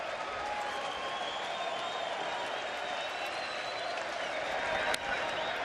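A baseball stadium crowd cheers and applauds in a steady, sustained roar at a Mariners at Rangers game, with a commentator talking over it.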